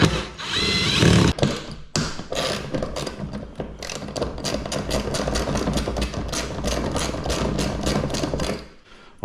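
Bursts of a power drill whirring during a supercharged jetski engine rebuild, short repeated pulses starting and stopping in quick rhythm, loud and close, with some clunks between.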